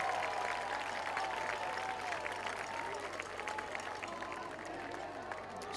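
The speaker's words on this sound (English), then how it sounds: "Let's give them all one good round of applause for your Franklin cheerleaders" A stadium crowd at a high school varsity football game applauds the Franklin cheerleaders with sustained, dense clapping and cheering that carries on evenly from a distance.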